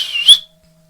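A short, bright human whistle with a rising, sliding pitch, heard alone and close, fading into near silence after about half a second.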